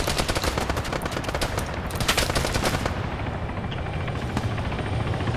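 Machine gun fire in a first-person shooter game, a loud continuous rattle of rapid bursts over a steady engine-like drone, with no talk.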